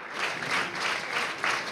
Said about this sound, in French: il y a des applaudissements, mais pas seulement.